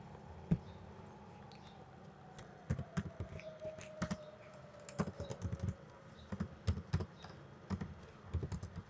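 A computer keyboard is tapped in short clusters of crisp keystrokes, including a save shortcut, scattered across several seconds with quiet gaps between them; close and fairly soft.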